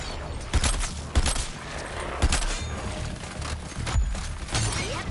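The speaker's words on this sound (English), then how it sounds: "Yep, I'm shooting with Deadshot." Gunfire from Deadshot's gun in the Suicide Squad: Kill the Justice League video game, a series of sharp, punchy shots spaced about a second apart over a busy background of game effects.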